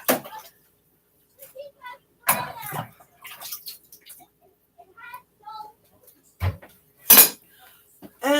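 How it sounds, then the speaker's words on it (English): Kitchen knife being washed in a home kitchen: intermittent bursts of running water and metallic clinks of cutlery and dishes, with a person talking between the splashes. "So let's wash off the knife real quick."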